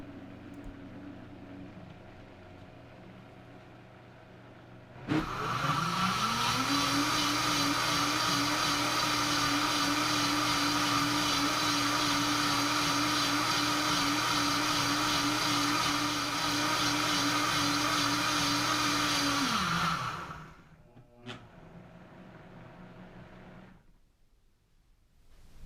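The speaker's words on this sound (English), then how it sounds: "I slowed the Vitamix down, you guys, because I want to add a little bit of extra virgin olive oil towards the end before we finish blending" A Vitamix 780 blender churns soup at a reduced speed, a steady, loud motor whine with a spinning hum that holds for about fifteen seconds, then cuts off abruptly into quiet.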